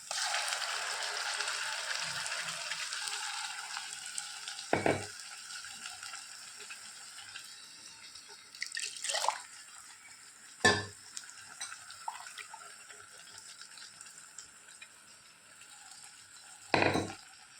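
Ground masala sizzles gently in a pan for egg curry, a soft continuous frying hiss broken by several sharp clinks and scrapes of a spoon stirring against the pan.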